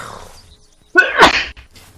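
A character sneezes in the survival game Unturned, one sharp, loud burst rising out of near silence, followed by faint background noise.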